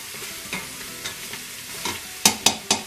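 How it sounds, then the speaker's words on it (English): Goat trotters (paya) being sautéed in a pan, with spoon scrapes and stirring strikes that start soft and spaced, then grow into several sharp, loud clatters near the end over a light sizzle. "now this few minutes we're gonna saute it like this with the paya"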